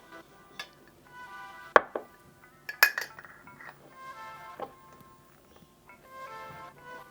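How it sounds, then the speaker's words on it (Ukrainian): A lid set onto a container of marinating Korean-style carrots, giving a few light clinks and clatters, one sharper knock among them, with soft kitchen handling in between. "І закриваю кришкою."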